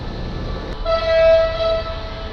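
Thai express train 85 passing through Taling Chan Junction station, a loud sustained horn toot over the low rumble of the moving train, heard close by.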